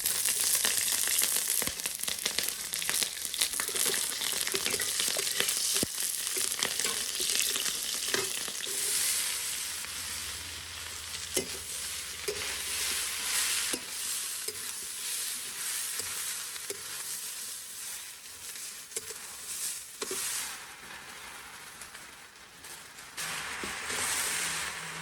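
Cumin, radhuni, dried chillies and green chillies sizzle and crackle steadily in hot oil in a pan, with occasional stirring scrapes and a slowly fading fry.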